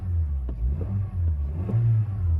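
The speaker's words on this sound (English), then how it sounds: "The car is now running." A 2000 Honda Fit/Jazz with a CVT transmission idles with a steady low engine rumble, close and moderately loud, holding an even tone with slight fluctuations and no talking.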